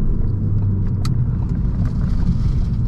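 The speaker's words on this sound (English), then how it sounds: "let's see if we can downshift for this corner" A Ford Focus ST with about 40,000 miles downshifts for a corner on a road with traffic, its engine a steady, loud, close low rumble for the whole stretch with no talk over it.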